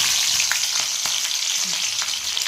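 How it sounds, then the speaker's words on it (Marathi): Green chillies frying in hot oil in an iron kadhai give a steady, close sizzle with a few brief stirring clicks and no talking. "इथं आपलं तेल गरम झालंय त्यात आता मिरची टाकून घ्यायची"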